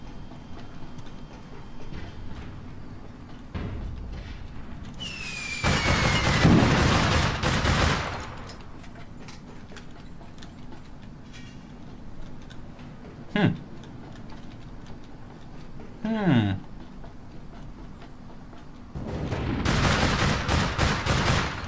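Sniper fire and other gunshots in the online shooter APB Reloaded ring out as a few loud cracks and bursts, mixed with game sound effects and whooshing tones over a steady low ambient background.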